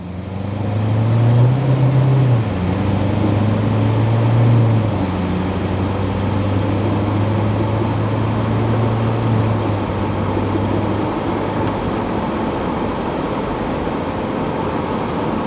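A 2016 red Corvette pulls away from a stop under steady acceleration, its engine a smooth, continuous drone with a rising tone early on and an even, loud interior hum throughout.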